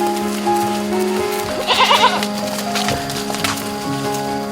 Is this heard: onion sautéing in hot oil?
no